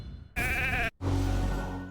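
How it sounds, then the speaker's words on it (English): A sheep in the mobile fantasy game RAID: Shadow Legends gives two loud, wavering bleats separated by a short silent gap, the second lower and fuller, with no talk. "We've got a sheep."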